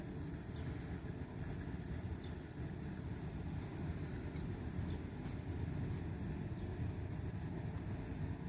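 Susquehanna engine 3018 switching grain cars in Binghamton, New York: a faint, distant low rumble of locomotive and rolling cars, steady throughout with no clear clanks.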